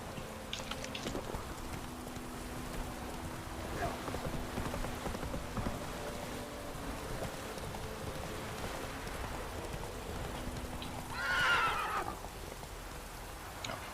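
Roach the horse from The Witcher 3 moves through rain, with soft hoof clops early on, a steady rain patter throughout, and a sharp whinny rising near the end.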